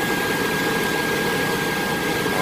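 A 1997 Chevrolet Silverado idles with its loud cooling fan roaring, a steady whooshing drone over a low engine hum with a faint constant whine, no talking.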